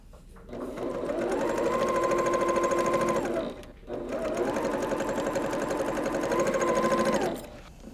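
A sewing machine runs in two steady bursts of several seconds each, stitching together the sides of quilt pieces. The motor hum is loud and close, with a brief pause in between.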